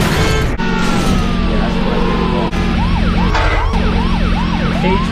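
A police siren wails loudly and close in the truck-driving video game Big Mutha Truckers 2, rising and falling repeatedly over a steady engine drone.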